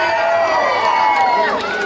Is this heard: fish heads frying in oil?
no